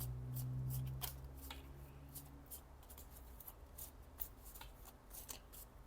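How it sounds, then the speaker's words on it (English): Oracle cards are shuffled by hand in a quiet room, a run of crisp riffling and flicking bursts repeating in quick irregular rhythm, close and soft after a brief low hum at the start. "as I was shuffling these cards"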